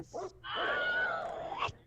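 A goblin dog dies in a Pathfinder Fantasy Grounds tabletop game: a brief yip followed by a longer, drawn-out whining whimper that ends in a sharp catch, fairly quiet and alone.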